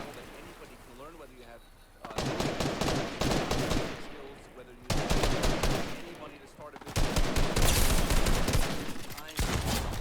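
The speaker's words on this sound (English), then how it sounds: "shots to my left" Rapid bursts of video game gunfire from a battle royale match, loud and dense, erupting in several sustained volleys with brief gaps between them, with players talking over it.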